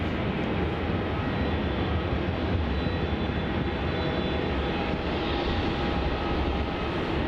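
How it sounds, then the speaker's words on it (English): A Virgin Australia Boeing 737 departing off runway 34 at Melbourne Airport, a loud, steady jet engine roar that holds unbroken throughout with no talk over it. "it looks like we have another Virgin Australia 737 departure off runway 34"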